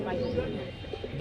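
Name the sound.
male pigeon cooing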